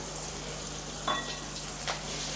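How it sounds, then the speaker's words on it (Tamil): Whole peeled garlic cloves sauté in a pan for a tamarind kuzhambu, giving a soft continuous sizzle with two brief louder bursts as they are stirred. "சேர்த்து நல்லா வதக்கி விட்டுறலாம்"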